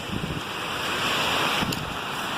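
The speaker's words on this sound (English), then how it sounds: "pretty sure we're coming up to the second creek crossing because there's a stream right there" A mountain stream at a creek crossing on the Mt. Whitney Trail rushes steadily and loudly nearby, a continuous broadband wash of flowing water mixed with wind buffeting the microphone, with no one talking.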